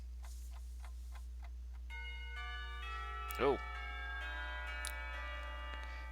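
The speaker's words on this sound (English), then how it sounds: "It isn't long before the bells are signaling the end of the break." School bells from the visual novel Katawa Shoujo chime to mark the end of the lunch break. A sequence of sustained, ringing tones layers up over a steady tick and a low hum, with a brief voice partway through.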